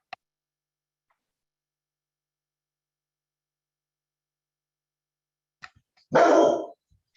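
A pet dog lets out one loud, close bark near the end, following several seconds of near silence broken only by a couple of faint ticks.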